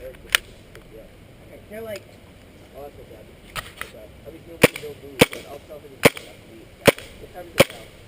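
An airsoft pistol, a WE chrome M9 or KWA Mac 11, fires in cold weather, giving several sharp, isolated cracks spaced about a second apart, with faint voices and outdoor background between shots.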